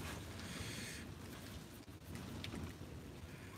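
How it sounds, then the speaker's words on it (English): Wind picks up outdoors in a garden, a steady broad rush and buffeting on the microphone that stays faint and even throughout, with a brief lull near the middle. "that wind is picking up"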